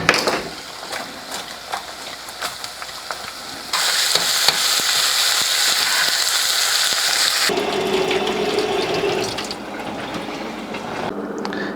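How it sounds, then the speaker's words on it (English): Trout pan-frying in butter over a low flame sizzles steadily and close up, a continuous crackling hiss that grows louder midway and then eases back, with no voices. "when you're cooking the fish in the butter, make sure you use a very low flame because it will burn on you"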